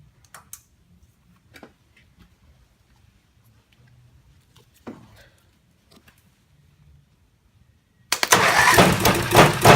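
A Bolens G11 XL garden tractor engine, revived after a bad coil, sits silent behind a few faint ticks and clicks, then suddenly catches and runs loud and rough for the last couple of seconds.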